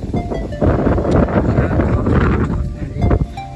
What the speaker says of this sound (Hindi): बहुत प्यारी मीठी हवा चल रही है जी